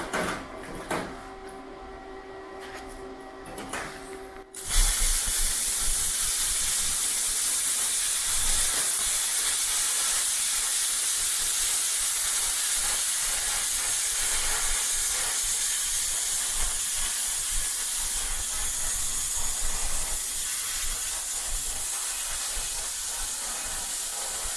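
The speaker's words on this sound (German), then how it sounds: "So, jetzt schneide ich noch einen neuen Streifen aus" A power cutter slices a new strip of sheet metal for repairing a rusted Chevy C30, starting with a quieter hum, then breaking into a loud, steady, hissing cut that runs on without a break.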